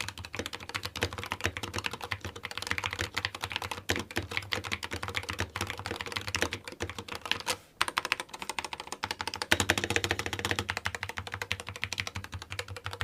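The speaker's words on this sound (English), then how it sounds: "here's a quick typing test for y'all to hear what this thing sounds like" Rapid, steady clatter of typing on a Corsair K65 Pro Mini RGB optical-mechanical keyboard, dense close keystrokes with a brief pause midway, no talking.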